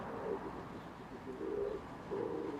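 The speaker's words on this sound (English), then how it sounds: "Can you hear that wood pigeon?" A wood pigeon coos in a garden beside a raised vegetable bed, three soft, low hooting phrases spaced about a second apart against a faint outdoor background.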